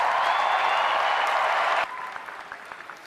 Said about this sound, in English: it is so nice to hear you cheering for what I just said